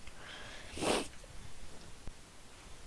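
A dog gives a single sharp snort nearby, followed by quiet sniffing and soft breathing against a faint background.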